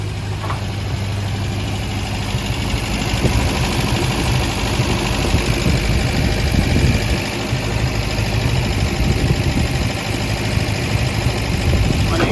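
A carbureted engine idles steadily throughout with a low, continuous rumble and slight rough pulsing, close by and fairly loud.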